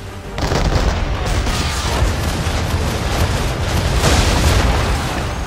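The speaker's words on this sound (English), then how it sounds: "The swivel guns normally don't do anything." Swivel guns fire in the video game Assassin's Creed 3, producing a loud, dense, continuous barrage of booming blasts that barely lets up throughout.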